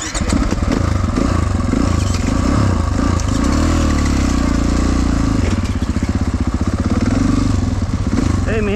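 A 450 four-stroke enduro motorcycle engine runs loud and close on an enduro ride in Pennsylvania, with a throbbing, pulsing drone that swells and dips as the throttle changes.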